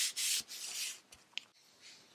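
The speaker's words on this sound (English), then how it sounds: "put some anti-static powder all over my panel here" Anti-static powder rubbed across a craft panel before embossing, a close, soft brushing swish in a few strokes with short pauses and a small tap near the end.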